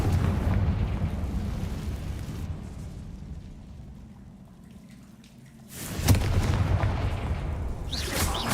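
Fiery spell explosions in the Hogwarts Legacy video game, with loud booming blasts and rumbling debris at the start, a quieter lull, then another sharp burst that rumbles on to the end.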